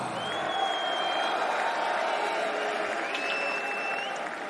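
A crowd at a fight cheering and applauding for Lewis McGrillen keeps up a steady roar with scattered whistles and whoops, while a voice talks faintly underneath.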